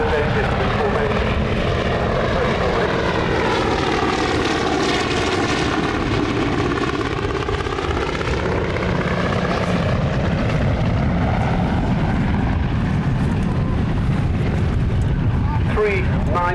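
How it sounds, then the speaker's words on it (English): Loud, continuous droning of three 9-cylinder Pratt & Whitney Wasp radial piston engines on Junkers aircraft flying in formation overhead at a Duxford air display, the pitch sweeping as they approach and recede. "Three 9-cylinder Pratt & Whitney Wasp engines."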